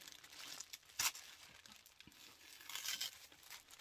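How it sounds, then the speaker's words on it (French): Soft crinkling and tearing of thin tissue paper as a package is unwrapped with scissors, with a few sharper rips, quiet and close, no voices. "je vais défaire avec les ciseaux pour essayer de garder le papier de soie"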